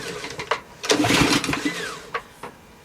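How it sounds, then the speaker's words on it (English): Honda GCV160 lawn mower engine turned over by its recoil starter, giving a few short pull bursts with a brief sputtering catch in the middle, then quick tugs that fade, close by with no talk. "I'm just going to turn over the engine."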